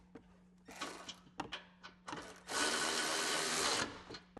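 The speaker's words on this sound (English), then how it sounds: "Take our ratchet and get it started." Ratchet tightening a bolt during installation of a 2024-up Road Glide motorcycle audio package: a series of short clicking bursts, then a longer continuous ratcheting run, close and fairly quiet over a low hum.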